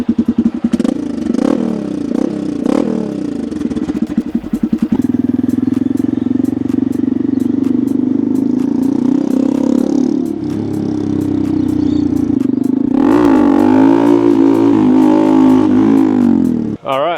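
A Honda Grom motorcycle with a raspy aftermarket underseat exhaust revs repeatedly up close, rising and falling in pitch, then settles into a loud, rough idle.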